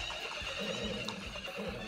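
Horse neighs during a horse race in the Story of Seasons video game, a loud whinny over steady game music with a faint clip-clop of hooves underneath.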